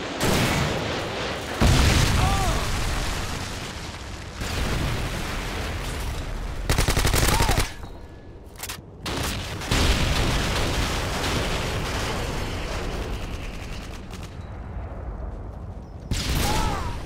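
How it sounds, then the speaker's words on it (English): A Predator missile strike lands in Call of Duty Modern Warfare 2 multiplayer on the Quarry map, with heavy booming blasts amid bursts of rapid gunfire and dense battlefield noise throughout. "Friendly Predator missile incoming."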